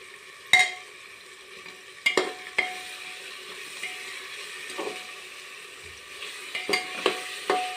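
Spices and turmeric are roasted in a pan for masale bhat, with quiet sizzling and a few sharp clanks and scrapes of a spoon stirring against the pan.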